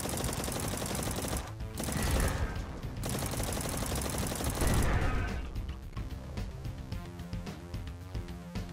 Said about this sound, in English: Not really sure if I really like the nail gun, but actually it seems like it does pretty decent damage